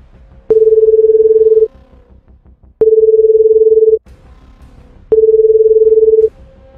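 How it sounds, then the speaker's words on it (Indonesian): Phone call being placed: three long steady ringback tones, each about a second long and separated by short gaps, sounding clearly and alone with nobody talking. "Oke, gue telepon."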